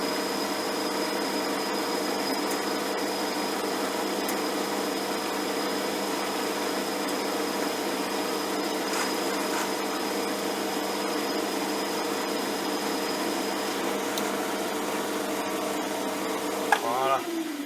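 Steady whirring hum of a lathe turning a 40CMD8 alloy steel bar, continuous and fairly faint with a thin high tone that stops near the end, followed by a brief clatter.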